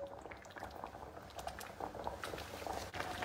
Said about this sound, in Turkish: Şimdi süzdürdüğümüz aspir suyunu döküyorum içine.